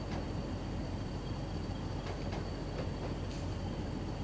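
A demo freight train running on a heritage railway in a train simulator game, a steady loud rumble of rolling stock with faint occasional clanks and a thin whine held throughout.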